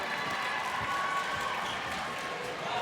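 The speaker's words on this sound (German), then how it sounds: "einmal Applaus in der Halle" Steady applause fills an indoor hall after a round is played, a dense, even wash of clapping from a crowd that holds at one level throughout.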